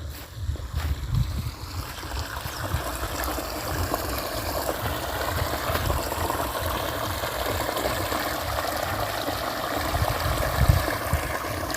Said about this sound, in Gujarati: અહીંથી પાણી આવે.